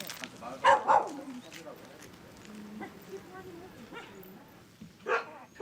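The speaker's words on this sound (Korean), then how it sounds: "그 길거리에 돌아다니는 강아지였어요?" A rescued stray dog at an animal shelter gives a couple of quick barks near the start and another short bark at the end, with people talking quietly in between.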